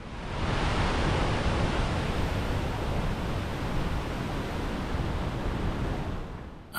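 A waterfall on the Ingleton trail rushes over limestone, making a loud, continuous broadband roar that stays steady and alone from start to finish.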